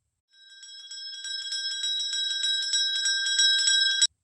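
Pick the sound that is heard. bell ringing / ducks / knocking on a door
bell ringing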